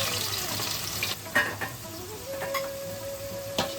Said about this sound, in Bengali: এবার কিছু আলুকে ভেজে নিচ্ছি